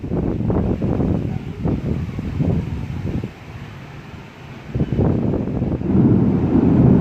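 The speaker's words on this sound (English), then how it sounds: "It's so windy." Strong wind from a big storm roars and buffets the microphone in a continuous rush, easing briefly before surging back louder.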